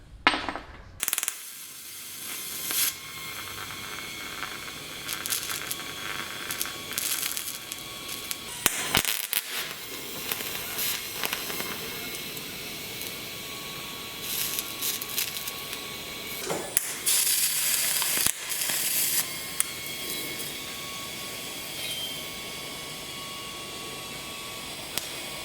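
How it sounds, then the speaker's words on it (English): An arc welder crackles and sizzles steadily nearby as chains are welded onto a homemade metal torch cart built from a firewood rack, with brief pauses between long welding runs. "so let's go ahead and weld them while they're in there."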